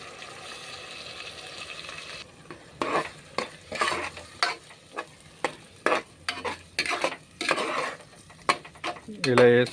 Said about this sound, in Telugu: ఇలా వేసుకొని 5 మినిట్స్ ఇలా ఫ్రై చేసుకోవాలి మసాలా.